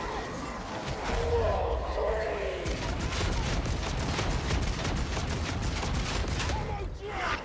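Sustained gunfire from a magazine being emptied in the video game Darktide, a dense, rapid stream of shots that runs for several seconds with voices talking over it.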